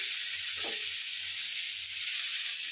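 Onions frying in a pan for cauliflower kurma, a steady close sizzle with a soft scrape or stir partway through.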